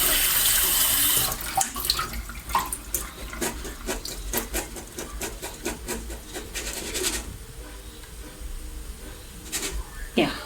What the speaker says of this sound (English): So I put the water and